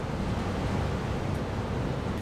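Strong wind at sea in extreme weather roars steadily as a dense, unbroken rush of noise, loud and close to the microphone with no voices heard.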